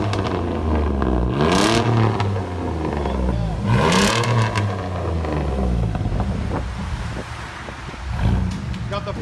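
A 2004 Chevy S10 crew cab with a 4.3 engine and dual straight pipes revs hard twice, each loud rising roar falling back to a rumbling idle, with a lighter blip near the end.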